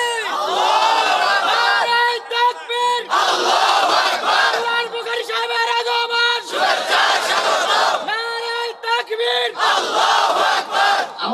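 A large crowd at a Bangla Islamic waz sermon gathering chants religious slogans in loud unison. Each rhythmic phrase is shouted and held, with short breaks between.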